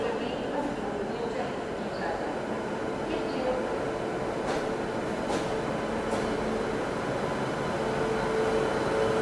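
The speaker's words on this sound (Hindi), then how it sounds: "लोकोमोटिव के साथ अपनी श्री शक्ति एक्सप्रेस पहुंच रही है यहाँ पे।" Shree Shakti AC Express arriving behind a WAP7 locomotive from the Howrah shed, a steady rumbling rolling roar of the train at a station that holds level throughout, with faint people talking underneath.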